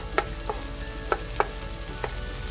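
Tomatoes frying in a pan for an okra and scrambled egg stir fry, a steady sizzle broken by a few separate spatula clicks and scrapes, close and moderately loud.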